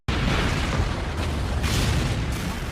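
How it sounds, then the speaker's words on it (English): A huge artillery explosion roars in a fantasy battle, a sustained loud booming blast that fills the whole stretch with dense rumbling noise after a sudden onset. "Artillery?"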